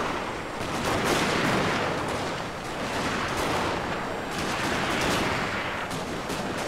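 Musket volleys and artillery fire from a Shogun 2 battle crackle in a dense, continuous roar of overlapping shots, loud and sustained throughout.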